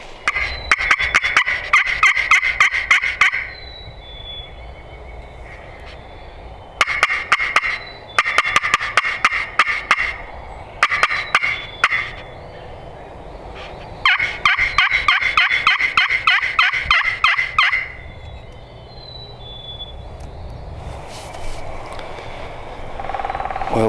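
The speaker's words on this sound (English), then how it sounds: "the birds have flown down, and they're still gobbling periodically" Wild turkeys gobble repeatedly at dawn near a river during a public-land hunt, loud bursts of rattling gobbles coming in clusters with quieter gaps between them.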